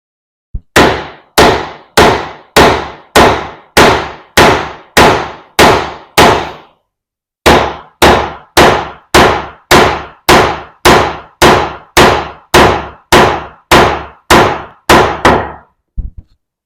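A sash pocket chisel is struck repeatedly with a mallet to make back cuts in a wooden board, giving loud, sharp evenly spaced knocks in two long runs split by a brief pause, with nothing else heard.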